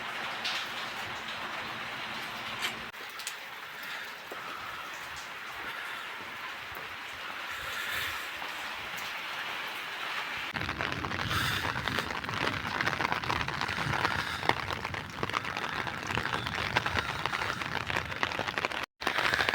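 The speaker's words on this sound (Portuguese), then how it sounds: "mas tá chovendo lá fora" Rain falls outside in a steady hiss that sits at a distance at first and then grows louder and denser partway through, continuing without voices over it.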